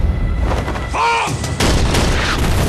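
Gunfire cracks out in a short, loud burst of shots in a wartime battle scene, with a dense booming background.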